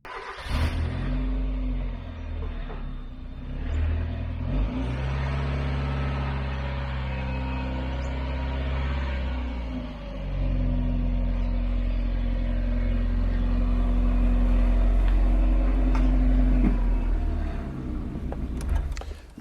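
Engine of a Mazda Miata being restored, idling and running under its own power with a loud, steady low rumble, rising in intensity partway through as it revs slightly, heard close up.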